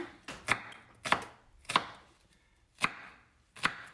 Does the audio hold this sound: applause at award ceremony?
no